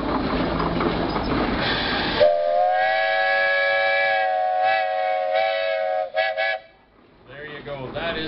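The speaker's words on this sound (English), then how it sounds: "Give us another little tug there on the whistle." A loud, steady steam whistle blows on a 75 horsepower Case steam traction engine, a Western plow engine, at an outdoor steam show. A long sustained blast is followed by short toots, with crowd noise around it.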